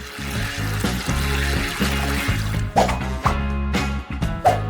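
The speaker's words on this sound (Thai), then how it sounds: "ตอนนี้เราก็เทน้ำที่ส่วนเกินออก" Excess liquid is poured off during cooking in a steady trickle with dribbling splashes, alongside a loud, pulsing low drone. The sound is close and continuous, with no speech.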